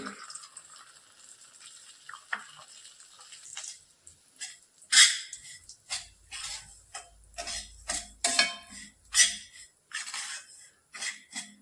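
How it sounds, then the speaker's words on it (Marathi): Semolina (rava) poured into hot ghee in a pan and stirred for Satyanarayan prasad sheera, with irregular scraping and clinking of a spoon against the metal and light sizzling, close and moderately loud. "त्यानंतर आपण जो सव्वा वाटी रवा घेतलाय तो या तुपात टाकून घेऊ"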